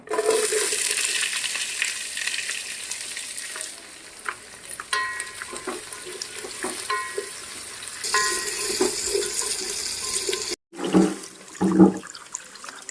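Sliced onions, tomato and green chillies tipped into a hot cooking pan for biryani, giving a loud crackling sizzle that rises and eases with stirring, interrupted by a brief pause and a few clanks near the end.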